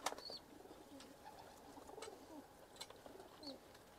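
A female Edremit Kelebeği pigeon with a neck crest coos softly in repeated short phrases, close but faint, with a few light clicks and rustles between the calls.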